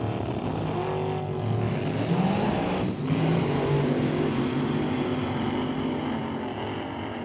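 Blown alcohol combo drag racing car on the track, a loud sustained engine roar with shifting pitch that swells, briefly dips, then carries on steadily at a distance.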